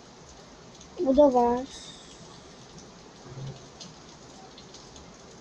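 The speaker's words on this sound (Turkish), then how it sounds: "Arkadaşlar çok yağmur yağıyor." Heavy rain pours steadily, heard from a balcony as an even wash of noise throughout, while a voice speaks briefly near the start.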